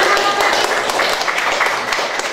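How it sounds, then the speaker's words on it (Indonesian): A class does the "tepuk semangat" rhythmic clapping chant, a dense, steady burst of many hands clapping together with voices mixed in, loud and close for a couple of seconds. "Yuk kita tepuk semangat dulu biar semuanya lebih semangat."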